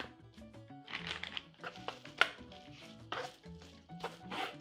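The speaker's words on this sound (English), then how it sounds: "We are going to cut it into more manageable pieces" A knife cuts marinated beef into pieces for searing in a cast iron skillet, giving a series of close, crisp chopping taps against a board at an uneven rhythm.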